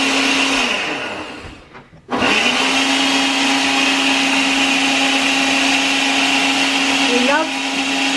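A kitchen blender whirs loudly up close while making smoothies, briefly slowing and dipping before roaring back to a steady high-pitched motor drone, with a slight shift in pitch near the end.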